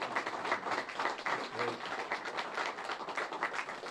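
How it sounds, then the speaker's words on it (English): A crowd claps and cheers to welcome Governor Dan McKee at the new Pawtucket High School, a thick, continuous burst of applause with some voices mixed into the noise. "let's give a round of applause and a warm welcome to our favorite governor"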